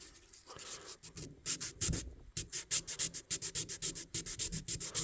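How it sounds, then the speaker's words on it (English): Sandpaper rubs a vintage knife blade with rust on it, giving close, rhythmic scratchy back-and-forth strokes, quick and steady, after a brief pause near the start. "A lot of times I'll take a little sandpaper. You can see that right there."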